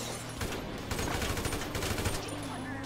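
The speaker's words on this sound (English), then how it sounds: "Should I just start shooting things?" Rapid gunfire in GTA 5 during a role-play hide-and-seek match, dense bursts of shots over game ambience and a low rumble, fairly loud and continuous.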